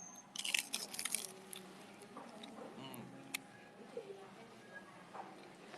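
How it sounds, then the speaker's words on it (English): Crispy street food with a corn-dog-like crust in Hanoi is bitten close up. A cluster of sharp, crackly crunches comes first, then quieter chewing against soft background hum. "So I've got to crunch it on camera"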